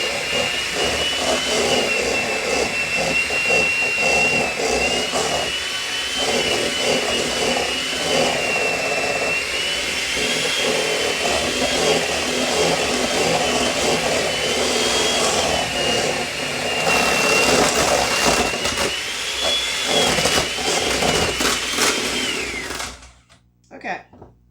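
An electric hand mixer beats cream for a cherry cheese dump cake, a loud continuous high-pitched whir at high speed that runs steadily before cutting off abruptly.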